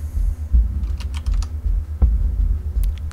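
Fingers tap out a Binwalk command on a computer keyboard, producing a quick, uneven run of close, distinct key clicks over a low background hum.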